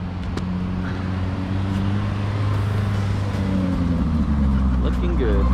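A red Lamborghini Urus SUV drives past at a car cruise meet, its engine a steady low rumble over constant traffic noise, with people talking nearby.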